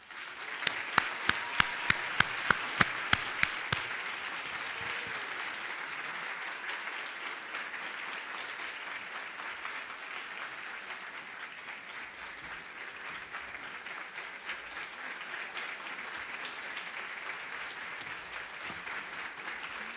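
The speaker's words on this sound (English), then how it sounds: "let's give the greatest, warmest round of applause to our Secretary of the Army, Army Christine Wormuth." An audience at a Latina symposium gives a long, steady round of applause for the Secretary of the Army, a few sharp individual claps near the start before dense clapping fills the hall at an even level.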